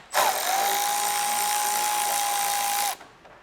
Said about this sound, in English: And then we'll go ahead and take out this 10mm bolt here.